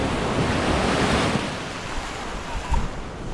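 Sea waves wash continuously onto a beach, a loud, broad surf roar with wind buffeting the microphone and no voices.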